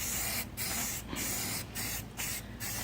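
Aerosol spray paint from a rattle can hisses loudly and up close while coating car rocker panels, in five sustained bursts separated by short gaps.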